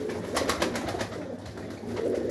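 Pigeons coo softly at close range, a low throaty murmur of overlapping calls over a short stretch.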